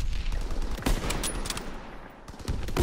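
Gunshots in a World War II video game, several sharp reports in quick succession with a burst near the middle and more near the end, loud over a dense background of battle noise.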